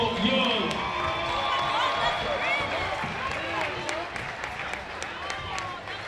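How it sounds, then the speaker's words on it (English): Crowd applause and cheering fill a high school gym after a Central Jersey Group 4 boys basketball game as the coach is honored, a steady dense wash with shouting voices and squeaking sneakers throughout. "Let's give a round of applause for our general, our great coach, Darryl Pumpy Dog Young."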